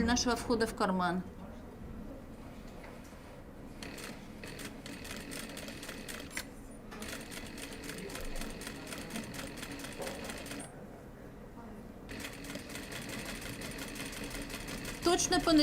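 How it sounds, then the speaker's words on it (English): A sewing machine stitches a welt pocket on an asymmetric dress, running steadily with brief pauses, close up, while a voice narrates over it. "Stitch right in the marked line."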